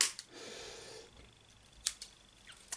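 Scissors snipping the tag end of fishing line on a live bait rig, several sharp close clicks spread across a quiet background, one louder snip standing out near the end.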